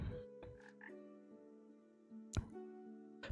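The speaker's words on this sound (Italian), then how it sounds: "Qua serve una rana." Croaking of a frog in the video game Ikonei Island: An Earthlock Adventure, a few sharp clicks and a short croak over sustained tonal game music, quiet and with no talking.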